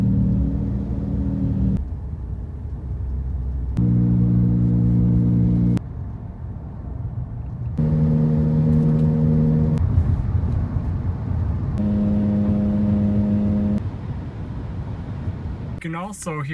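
A 2002 Acura TL-S with a worn front wheel bearing gives off a droning, humming growl in four separate stretches as it drives, over a low road rumble, with a sharp rattly noise at the very end.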